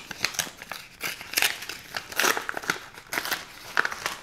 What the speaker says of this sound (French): je vais ouvrir cette enveloppe-là, juste devant vous